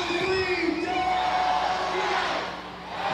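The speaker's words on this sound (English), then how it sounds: "Full capacity crowd" A sold-out, full-capacity crowd at a Savannah Bananas versus Party Animals baseball game roars and whoops, a loud sustained cheer with yells rising over it that eases off toward the end.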